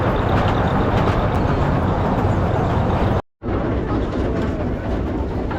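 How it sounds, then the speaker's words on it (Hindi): A small toy train runs along the Elephanta jetty with sea on both sides, giving a steady, loud rumble that continues without break apart from one brief dropout. "दोनों तरफ से समुंदर और उसके बीच में से जाती हुई हमारी एक छोटी सी ट्रेन."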